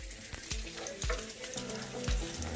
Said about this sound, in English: we're going to get those in a pan sauteing in olive oil in a moment